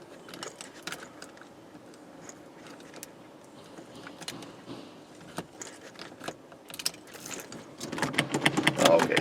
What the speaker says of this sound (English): we'll stick our key cylinder back in temporarily here